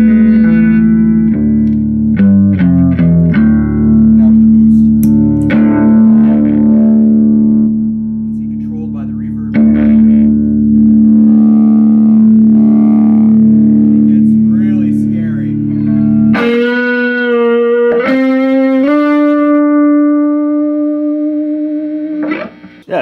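An electric guitar plays through an amp, with sustained notes and chords given a clean boost by a pedal's repurposed reverb knob, loud and close, and the level jumps partway through.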